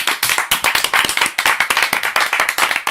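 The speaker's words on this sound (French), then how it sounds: "on vous applaudit, tiens" A live audience claps in fast, dense applause at a Serge Gainsbourg tribute, with sharp overlapping hand claps sustained at close, loud level throughout.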